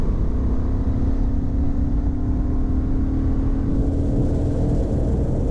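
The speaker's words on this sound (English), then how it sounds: "Acceleration in 6th gear. Please note, not going to use full throttle." A 2023 Honda Hornet 750 motorcycle accelerates steadily in sixth gear at part throttle, a constant engine drone buried under heavy, unbroken wind roar.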